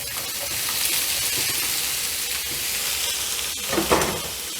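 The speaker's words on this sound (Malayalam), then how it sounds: "അതിലേക്ക് നമ്മൾ ഊറ്റി വെച്ച പൊട്ടറ്റോ ഉണ്ടല്ലോ, അതൊന്ന് ഇട്ട് കൊടുക്കാം" Potatoes sizzle loudly in about one and a half tablespoons of coconut oil in a pan, a dense steady frying hiss with a couple of stirring scrapes near the end.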